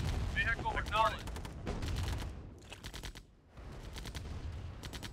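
Rapid gunfire from an enemy attack on the player's base in the video game Command and Conquer, Nod campaign mission 7, Orca Heist. Repeated quick bursts, machine-gun-like and fairly loud, briefly drop out midway before resuming amid busy battle noise.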